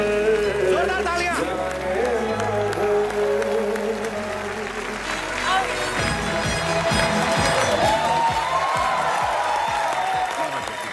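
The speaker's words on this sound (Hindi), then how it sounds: "जोरदार तालियां।" A studio audience at a Hindi comedy show applauds loudly and steadily throughout, mixed with music, with voices heard over it.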